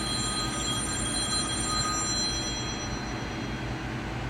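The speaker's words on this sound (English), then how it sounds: "I got a phone call." A telephone rings with an incoming call in a woodworking shop, a steady electronic ringing tone heard continuously over a dense low background rumble, with no talking.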